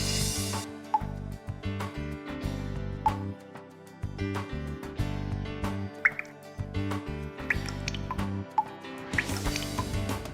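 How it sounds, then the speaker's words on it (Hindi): Water dripping through the particulate filter of an Aquasure Amrit water purifier, with irregular drips and plops over a musical background that continues throughout. "पहली स्टेज में पानी पार्टिकुलेट फिल्टर से जाता है"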